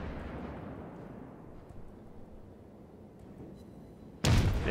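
A low rumbling background gives way to a sudden heavy boom near the end, a single loud blast from the large guns of the cruiser Königsberg in World of Warships.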